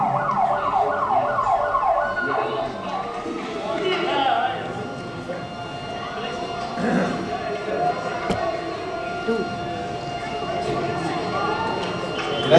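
An ambulance siren wails with a rising and falling tone as the vehicle arrives at a street shooting scene, loud at first and then fading under crowd noise and voices.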